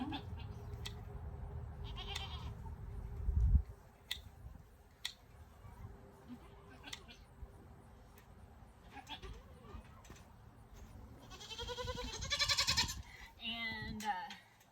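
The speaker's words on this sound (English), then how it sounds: "She is our top milk production goat that we have." A dairy goat, the herd's top milk producer, bleats in short calls spread through the scene, one loud wavering bleat standing out near the end, with other farm noises and a brief bump earlier.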